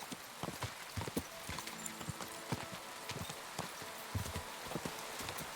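Steady clip-clop of horse hooves at a walking rhythm in the video game Kingdom Come: Deliverance II, fairly close, with a soft ambient background and no talking.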